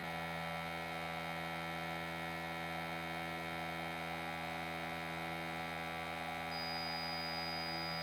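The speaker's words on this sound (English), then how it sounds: "the mini gas leak detector by GOW-MAC Instruments Company" A GOW-MAC 21-070 mini gas leak detector runs after being powered on, giving a faint, steady electrical hum with a thin buzzing tone that stays even throughout.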